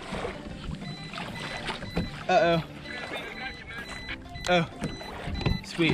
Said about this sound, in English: That sound you just heard is my spot that I set on my GPS to know when I'm there.